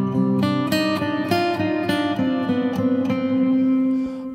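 A guitar strums a sequence of chords drenched in Seventh Heaven hall reverb set to 100 ms pre-delay, each attack blooming into a long, washy tail, close and alone with no voices.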